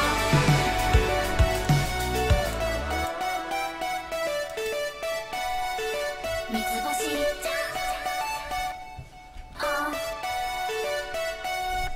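A plugin piano plays a busy melody with many quick notes over a dense backing, steady and moderately loud throughout.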